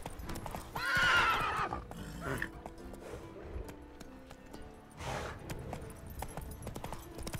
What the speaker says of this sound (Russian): Лошадь, не тревожься.